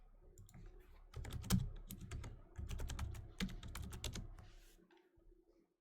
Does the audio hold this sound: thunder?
no